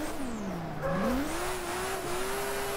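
Race car tires skid and squeal under hard braking with the handbrake pulled in the rFactor racing game at Road Atlanta, a loud continuous screech rising and sliding in pitch over engine noise, with no talking.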